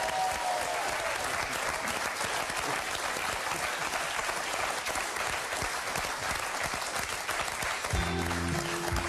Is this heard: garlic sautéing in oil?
no